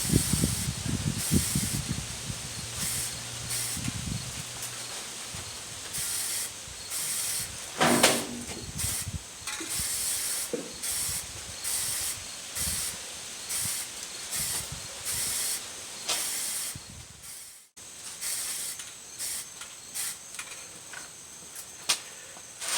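Aerosol primer is sprayed onto a car bumper in short, repeated hissing bursts with gaps between them, close and fairly loud.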